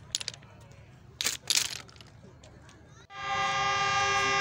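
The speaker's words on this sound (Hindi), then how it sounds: "और ये आप देख सकते हैं अभी कराकरम एक्सप्रेस भी आ गई थोड़ी देर बाद ही।" Karakoram Express of Pakistan Railway approaching on the track: scattered rattles and clacks, then a loud sustained horn blast that starts suddenly and holds steady to the end.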